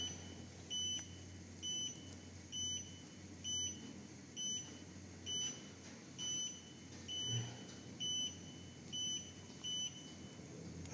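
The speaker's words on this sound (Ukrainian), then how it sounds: "Що пікає?" Short electronic beeps repeat at a steady pace, roughly one per second, over a low background hum from a 2014 IZAMET 400 kg lift; no voices.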